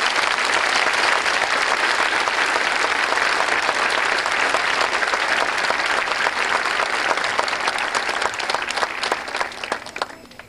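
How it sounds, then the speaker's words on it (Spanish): A church congregation applauds after a priestly ordination, dense sustained clapping filling the space loudly for about nine seconds before thinning out and fading at the end. "Para ellos un aplauso desde esta tierra chapina."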